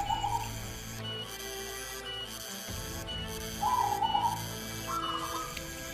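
Soft repeated zebra dove coos with a gentle whistling tone, recurring a few times against a steady background hum.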